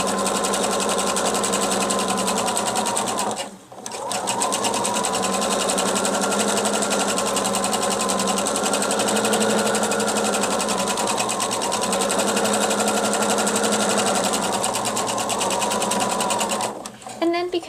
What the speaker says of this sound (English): I'm just going to top stitch this whole length.